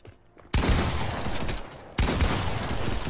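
Two loud sustained bursts of automatic gunfire in Fortnite, each starting abruptly and roaring for over a second, close and dense with no talk over them.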